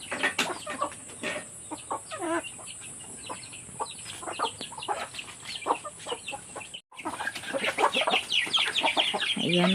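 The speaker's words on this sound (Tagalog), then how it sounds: "napakain si Riri ng mga manok." Chickens at a farm being fed cluck busily and close by in short, overlapping bursts, the flock growing louder and denser toward the end.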